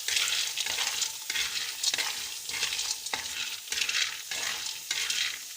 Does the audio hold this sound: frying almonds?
yes